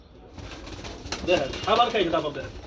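Racing pigeons coo in a loft in several low, throaty bursts close by, with some wing rustling and a steady room hum beneath.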